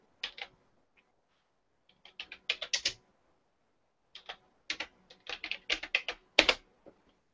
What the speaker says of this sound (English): So all I do is I'll type into the search bar, Chorley,